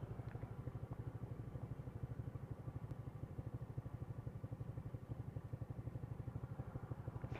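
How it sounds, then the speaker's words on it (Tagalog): A 150cc motorcycle labouring up a steep mountain road, its engine chugging in a fast, steady low throb, close and continuous. "Yung motor ko mahirap eh, 150cc pa to."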